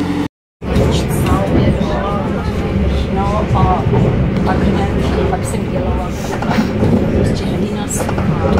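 A passenger train rolls along in Czechia, its steady rumble and rattling filling the carriage, with people talking close by over the noise throughout.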